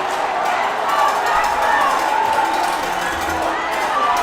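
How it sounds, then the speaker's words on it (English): Excited crowd at a Kirkwood versus Eureka high school football game, a steady dense roar of cheering and shouting that holds loud from start to end. "The crowd's excited."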